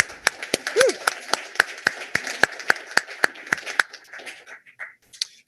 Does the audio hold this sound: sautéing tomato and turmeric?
no